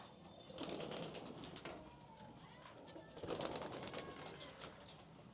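Racing pigeons coo faintly in a steady series of soft, low calls, heard nearly alone with only slight background noise.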